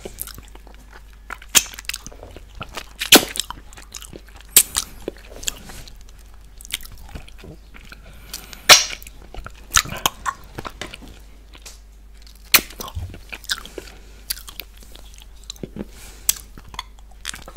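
Close-up ASMR eating of white chocolate, with soft wet mouth sounds, licking and sucking, and sporadic sharper crunchy bites and chews scattered irregularly over a faint steady hum, no speech.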